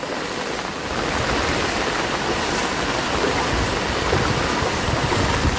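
Heavy floodwater rushing through a residential housing society after torrential monsoon rain, a loud continuous broadband wash that swells in after a quieter first second and holds steady, with no speech.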